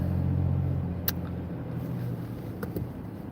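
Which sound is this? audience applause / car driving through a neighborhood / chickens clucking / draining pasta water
car driving through a neighborhood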